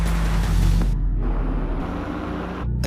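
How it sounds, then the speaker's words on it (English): An all-electric BMW car drives past with a loud, steady low rumble of road and drivetrain noise, and a faint high whine rises over it midway, with no engine firing pulses. "That is the sound of BMW performance without a single piston or cylinder."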